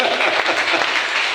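A church congregation applauds during a Sunday service, a short burst of close, dense clapping that holds at a steady level throughout.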